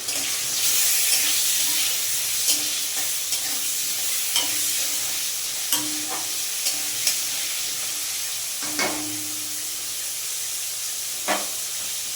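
Spice paste fries in a pan while being stirred: a constant close sizzle and hiss, punctuated by regular light scrapes and taps of a spatula against the metal.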